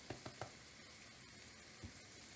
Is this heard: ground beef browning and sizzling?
yes